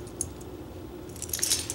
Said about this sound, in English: in here I just keep my keys, which has a cute little Hello Kitty on there